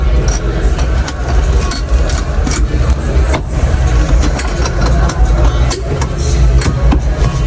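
A Mitsubishi L300 van engine runs steadily at idle, close and loud, with a constant low rumble and no pauses or revving across the whole stretch.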